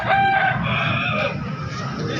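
A Filipino chicken crows loudly and close at Pasar Daya in Makassar, a single drawn-out call over steady busy market hubbub.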